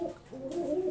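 Pigeons kept for racing and training coo close by in a continuous, rolling run of low throaty notes, with no voices.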